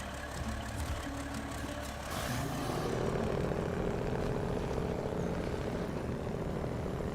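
A Kenworth 963 truck engine in SnowRunner drones with a deep, steady prop-plane-like hum, a sharper rise in intensity partway through settling into a continuous, fairly loud rumble with no talk over it.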